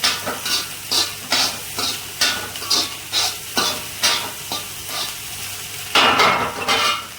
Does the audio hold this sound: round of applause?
no